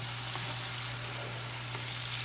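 Mushrooms crackle and sizzle in a large hot pan while being stirred, a dense, close frying hiss lasting a couple of seconds with a low steady hum beneath and no voices.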